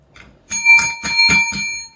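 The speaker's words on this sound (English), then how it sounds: "if that's how you ring that bell and that's how it sounds" A small bell rung rapidly, about five or six bright metallic strikes in quick succession with sustained ringing tones, close and fairly loud, with no talk over it.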